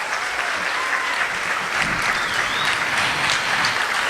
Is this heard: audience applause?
yes